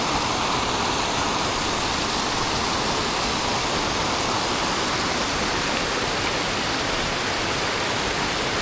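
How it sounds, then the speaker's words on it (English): Small waterfall in a creek pouring over logs, a loud, constant broadband rush of water heard up close with no talk. "a waterfall over the logs."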